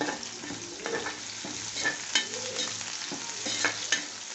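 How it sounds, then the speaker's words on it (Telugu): Onions stirring and frying in a pan at home, a steady soft sizzle broken by scraping stir strokes and occasional sharper clinks of a spoon against the pan, with no voices. "ఆనియన్స్ కొద్దిగా వేగనిద్దాం ఇంకా"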